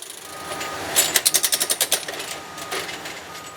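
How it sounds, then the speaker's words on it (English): A rail spiker machine drives spikes to secure freshly welded rail track, giving a quick run of about ten sharp, evenly spaced metallic knocks over steady machinery rumble outdoors. "After welding, a spiker immediately secures the track."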